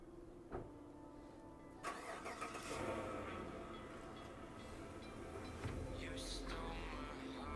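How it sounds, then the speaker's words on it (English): Road traffic near a street, with vehicles rumbling and swooshing past in a continuous wash, one engine noise swelling after a sharp knock, all moderately loud and steady. "A lot of traffic here."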